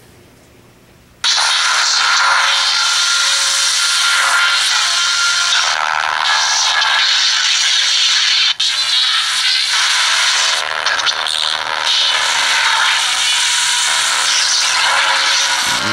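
A dense, hissing wash of radio scan static and sweeping tones from the GhostVox app, steady and loud, with a long reverberant tail smearing the sound throughout.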